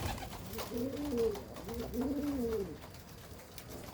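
Pigeons cooing during an evening feeding: two soft, rounded coo phrases in a row, close by, over a faint background hum.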